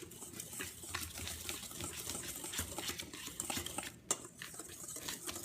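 Salt, baking soda and flour being whisked together in a bowl for crispy chocolate chip cookies, a steady soft scraping and rattling of the whisk against the bowl, close and continuous, with one brief sharper knock near the end.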